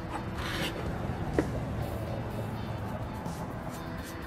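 A paint scraper dry scraping a previously sanded floor makes a steady rasping, rubbing sound, continuous and close, with one sharp scrape partway through over a low background rumble.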